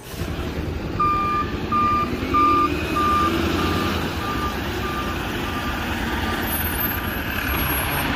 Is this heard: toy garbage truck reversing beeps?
yes